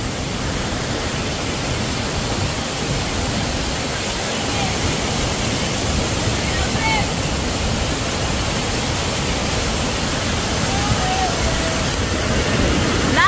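Anthurium Falls in Famy, Laguna, swollen after rain, roars as a steady, loud broadband rush of falling water filling the whole stretch, with faint voices buried beneath it.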